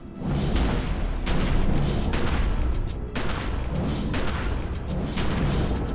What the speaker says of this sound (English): I'm running a shotgun and fist build